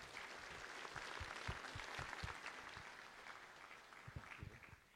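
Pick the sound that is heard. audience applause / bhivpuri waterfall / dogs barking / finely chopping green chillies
audience applause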